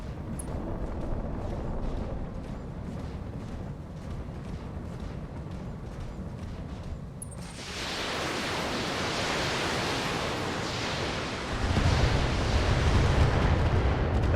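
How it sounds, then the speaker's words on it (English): Missile barrage in a BattleTech video game, a dense roaring wash of explosive rumble that thickens and grows louder partway through, with no talk. "That is a lot of missiles."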